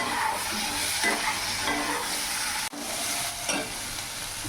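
Ginger, garlic and chili paste is stirred in a frying pan, giving a steady close sizzle with scraping spoon strokes throughout and a brief dropout near the middle.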